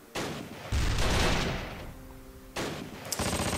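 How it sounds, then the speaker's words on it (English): Mortar and gunfire in the World War II strategy game Close Combat: Last Stand Arnhem: loud, dense blasts and rattling fire that overlap and swell in waves, with a brief lull before a final burst. "Mortar is firing"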